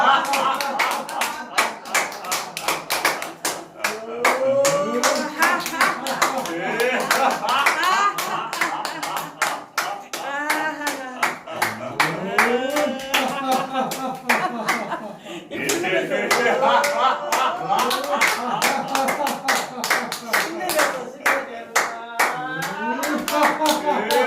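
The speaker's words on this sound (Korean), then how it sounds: "자, 박수." A group claps hands in long, steady runs of sharp, even slaps at a health talk, with brief pauses between bursts and someone speaking over the clapping at times.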